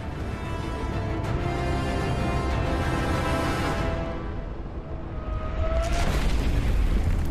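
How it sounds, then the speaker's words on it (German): A deep, sustained roaring rumble with a broad booming blast as the Space Shuttle Challenger explodes, like a distant explosion, rolling on and swelling again toward the end. "73 Sekunden nach dem Start explodiert die Challenger."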